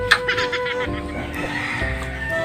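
Chickens cluck in a short burst of fowl calls, moderately loud over a steady background with faint harmonic tones, no voices present.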